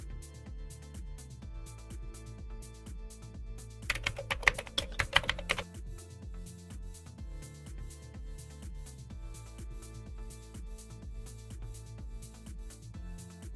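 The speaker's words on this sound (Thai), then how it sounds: "จากนั้นพิมพ์หานะครับ www.apple.com นะครับ เสร็จแล้วในช่องค้นหานะครับพิมพ์คำว่า Final Cut นะครับ" Computer keyboard typing while entering a web address and a search term: a steady run of close, crisp key clicks, with a brief denser burst of fast keystrokes midway, no talking.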